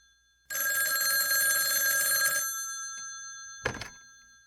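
An old-style telephone bell rings in a rapid, loud metallic trill for about two seconds in a radio drama setting, then cuts off, followed by a brief thump of the receiver being picked up.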